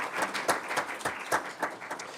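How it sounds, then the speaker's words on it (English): Audience at a school board of education meeting giving a round of applause, brisk irregular clapping with distinct sharp hand claps, moderately loud and close, without speech. "let's give him a round of applause"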